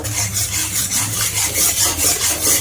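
A spoon stirs a mixture of milk powder, ghee and water for kheer in a pan, making a loud, close, rhythmic scraping repeated in quick even strokes.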